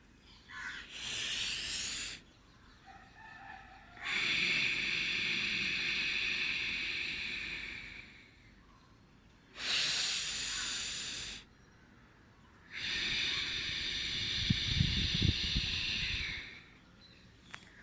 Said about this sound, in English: So every time you exhale in Ujjayi, try to constrict this throat muscle and then exhale